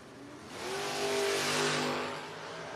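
A 1978 Firebird and a Charger drag racing, engines swelling into a loud harmonic roar as they accelerate and pass, then easing off, heard from trackside with no talk.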